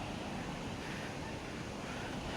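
Kalu waterfall pouring down under high pressure, a loud, steady, broadband roar of rushing water that fills the whole clip without letting up, close and continuous.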